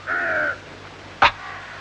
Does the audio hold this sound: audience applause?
no